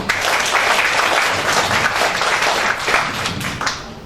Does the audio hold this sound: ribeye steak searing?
no